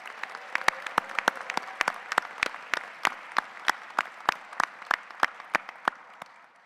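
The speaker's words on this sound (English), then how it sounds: "Let's give them all a round of applause as well." At a graduation ceremony for the class of 2023, audience applause comes in as a soft bed of clapping. A few nearby hands stand out with sharp, evenly spaced claps that continue steadily throughout.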